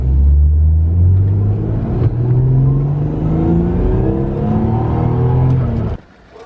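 A Nissan Z pulls in nearby with a loud, deep engine rumble that rises and settles over several seconds before cutting off abruptly near the end, no speech over it.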